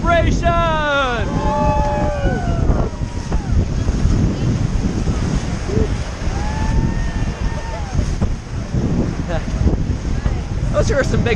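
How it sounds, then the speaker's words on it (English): Rapids on the Kicking Horse River roar and churn during a rafting trip, a loud continuous rush of water mixed with wind buffeting the microphone, while distant voices call out over it. "Those are some big waves in there."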